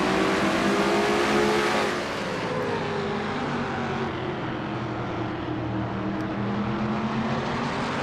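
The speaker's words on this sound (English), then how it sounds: "it is worth mentioning that the engines get a bit of a workout right there" Race car engines rev at Martinsville during an NNSCRA Castrol GTX Cup race, a loud, continuous roar that rises and falls as the cars climb to high RPM on the straights and drop back through the corners, with no talk.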